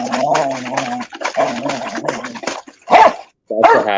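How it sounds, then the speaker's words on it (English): A happy dog barks and yelps excitedly in a rapid, uneven run of loud, close, tonal barks with brief gaps, ending in a couple of higher whining yips. "That's a happy dog."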